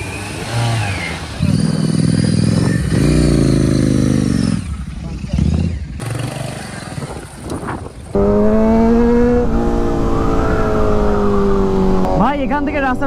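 Motorcycles ride along a road near Mandarmani, their engines droning and revving up and down, while riders talk over the engine noise.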